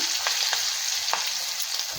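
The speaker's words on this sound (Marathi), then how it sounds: "गॅस आता बंद करायचा थोडा वेळ कारण फोडणी आपली करपायची नाही" Green chillies and turmeric sizzle in hot oil for a tempering in a pan, a steady close hiss with a few soft stirring scrapes and taps, no talking.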